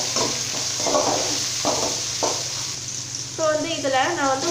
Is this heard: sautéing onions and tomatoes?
yes